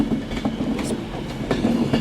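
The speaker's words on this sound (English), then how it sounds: "the Transpennine Express service to some far and distant land" A TransPennine Express train at Manchester Piccadilly station rumbles past close by, with a steady low roll and rhythmic wheel clicks over rail joints, loud and continuous with no talk.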